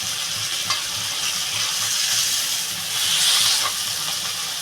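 Prawn heads fry in hot oil in a pan for a pumpkin curry, giving a loud, continuous hissing sizzle that swells briefly, with a few faint stirring clicks.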